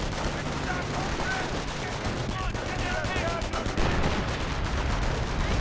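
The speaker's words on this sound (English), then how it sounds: "more artillery rounds hitting the bunker" Artillery rounds slam into a bunker during a Company of Heroes battle, with dense, continuous blasts and crackling gunfire piling up at a constant roar.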